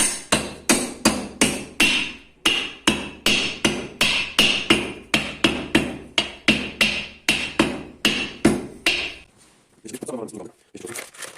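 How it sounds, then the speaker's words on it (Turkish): A rubber mallet strikes repeatedly in a steady, fast rhythm while fitting the piston and cylinder of a Peugeot 103 moped, more than two dozen dull close thuds, then stops and faint handling noises follow. "lastik bir çekiç yardımıyla"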